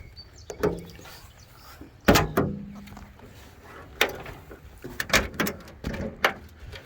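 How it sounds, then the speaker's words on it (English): Doors of a 1974 VW Thing being opened, a series of metallic clunks, latch clicks and rattles at irregular intervals, close by and without talk. "we'll just open all the doors and we will take the windows out."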